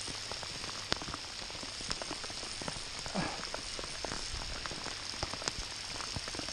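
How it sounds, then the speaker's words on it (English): Steady rain falls by the Kolan River with a dense hiss, scattered individual drops tapping close by, continuous and even throughout. "We're on, it's raining."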